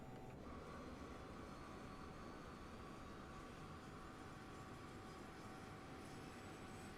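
A BAe 146 auxiliary power unit spools up inside a flight simulator, a steady, continuous turbine whine and broadband roar that holds at an even level for the whole stretch, with a faint high tone riding on top.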